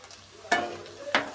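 Onions with chopped green chili and ginger frying in a pan for methi aloo sabzi: a low steady sizzle broken by two sharp scraping stirs about half a second apart.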